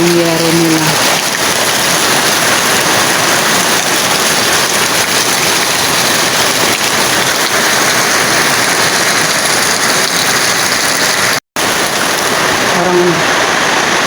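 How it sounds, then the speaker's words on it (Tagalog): Heavy rain pours steadily in a loud, dense, unbroken hiss and roar of water, with a brief voice near the start and end. "malakas ang ulan."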